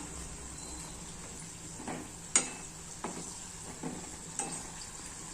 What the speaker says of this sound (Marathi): छान असा ब्राऊन कलर येतपर्यंत तळून घ्यायचा।